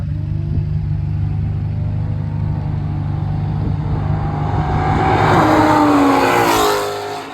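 A Ford Mustang GT with headers, an X-pipe and the factory muffler rumbles at a steady idle, then the revs climb into a loud rising roar before easing off.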